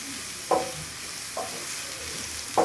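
Mutton pieces frying in a pan with a steady close sizzle, broken by three brief scrapes of stirring.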